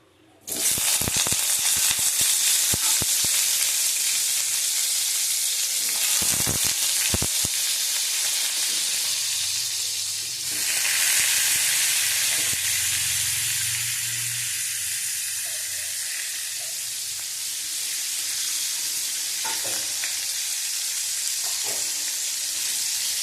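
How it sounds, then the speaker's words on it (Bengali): Pointed gourd and potato pieces fry in hot oil in a pan with a loud, steady sizzle, broken by a few sharp clatters and a surge of hissing midway, continuing without talk. "ভালো করে ভেজে নেব।"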